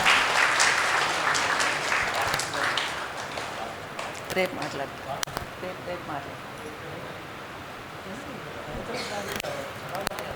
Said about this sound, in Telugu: మేడంకి ఒకసారి గట్టిగా క్లాప్ చేసుకుందాం